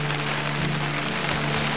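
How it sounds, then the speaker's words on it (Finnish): Steady rain patters on a tent during a trek in Sarek, Finland's neighbouring Swedish wilderness, a dense continuous hiss with a low steady hum underneath and no talk. "ulkona sataa."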